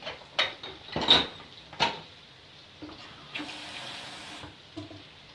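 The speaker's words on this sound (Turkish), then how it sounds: "Şimdi hemen bir çay bardağı su alıp" A kitchen tap runs in short bursts into a small tea glass, with splashes and glassy knocks close by, then a softer steady flow toward the end.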